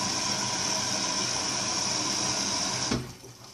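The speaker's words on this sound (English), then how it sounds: "it's got a little bit of water in now" Water rushes steadily into a washing machine drum for a rinse cycle, a loud continuous hiss and gush with a low motor hum beneath, cutting off abruptly near the end.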